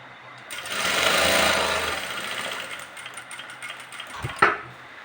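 A sewing machine runs a seam on a patiala salwar, with a buzzing stitch run that swells and fades, then a sharp mechanical clack near the end.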